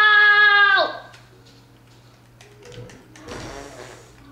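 A Minecraft sheep gives one loud, wavering bleat at the start that bends downward and cuts off, followed by quiet game ambience with faint scattered sounds.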